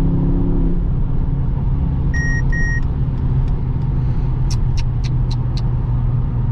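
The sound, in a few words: Mercedes-AMG GT63S E-Performance driving on the Autobahn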